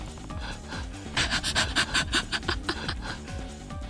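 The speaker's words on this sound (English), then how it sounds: "I'm panting so much. Just listen to me." Heavy, rapid rhythmic panting up close from the player in a Yakuza 3 Remastered session, quick breaths pulsing loudly in the middle after a quieter start.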